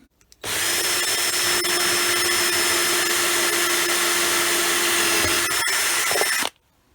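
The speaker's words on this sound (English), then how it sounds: "use the trusty step drill to put the correct size holes in it" A step drill bores holes in a part for a GT140 grasstrack motorcycle, one sustained loud high-pitched whine running for about six seconds before cutting off abruptly.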